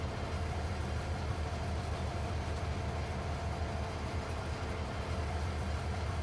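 A train in the farming video game Farming Simulator 22, a low steady rumbling drone that holds evenly throughout without any talking.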